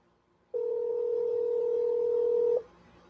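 A telephone dial tone sounds as a single steady, clear tone for about two seconds while a call is being placed, then cuts off, alone and close.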